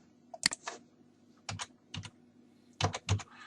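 Computer keyboard typing while code is entered in an editor: short clusters of crisp key clicks in a few bursts separated by brief pauses, close and fairly quiet.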